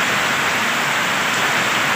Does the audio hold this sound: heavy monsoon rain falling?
yes